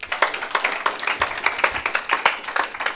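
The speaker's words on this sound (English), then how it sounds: "Kindly give him a good hand clap." Audience clapping at a Kenya Diaspora Homecoming Convention, a dense, steady patter of many hands continuing for several seconds at moderate loudness with no one talking over it.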